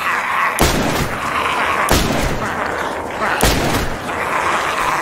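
Gunfire in DayZ rings out in three loud, well-spaced booming shots, each with a long rolling tail, over a constant background roar.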